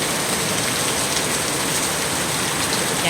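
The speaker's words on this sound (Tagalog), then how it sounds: "Ang lakas ng ulan." Heavy rain pours steadily in a loud, dense hiss that never lets up; no voices.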